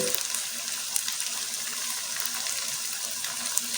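Chicken fries in a pot for biryani with a steady soft sizzle and crackle, fairly quiet and unbroken, no speech.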